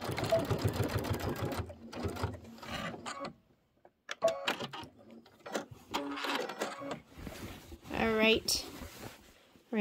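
Embroidery or sewing machine stitching a quilt panel with organza glitter skirt embellishments, running in short bursts between pauses, with a person talking over and between the stitching.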